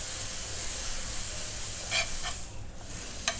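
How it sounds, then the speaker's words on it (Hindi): Butter melting in a hot pan for a brown bread sandwich gives a steady, close sizzling hiss, broken by a few brief scraping clicks near the end, with no one talking. "ये अपना बटर भी मेल्ट हो रहा"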